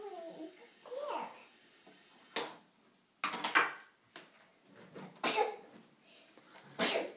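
A small child of about three sneezes indoors, a few sharp bursts spread across several seconds, close to the microphone, with some quiet child babble early on.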